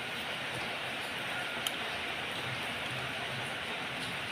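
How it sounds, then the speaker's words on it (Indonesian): Steady heavy rain driven by strong wind, a dense unbroken hiss that stays loud and even throughout with no voices. "lihat suasana di luar yang hujan itu loh teman-teman"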